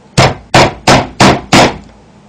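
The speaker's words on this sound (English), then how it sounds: "I haven't met a child yet that doesn't like hammering nails into things." A hammer drives nails into a wooden board for a woodworking math art project, five sharp, loud, evenly spaced strikes in quick succession, close by and with no talking.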